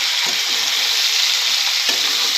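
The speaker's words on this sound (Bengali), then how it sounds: "এর মধ্যে এগুলো দিয়ে এবার ভালো করে ভাজবো" Loud, steady sizzle of eggplant, pointed gourd and tomato frying in oil in a pan, with a couple of soft scrapes from stirring and no one speaking.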